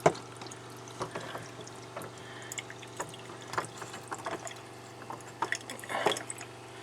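A camper shower with low water pressure trickles and drips faintly and steadily, a thin splashing patter with occasional louder drops and no talking.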